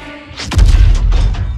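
In Call of Duty: Infinite Warfare, cannon fire strikes a ship: a sharp crack leads into a heavy, sustained booming rumble, loud and close, with debris-like thumps trailing off.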